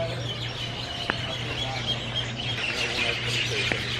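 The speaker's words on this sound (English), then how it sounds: "Listen to the birds." Birds chirp in Hawaii, with light, scattered calls over a low steady hum and faint background noise.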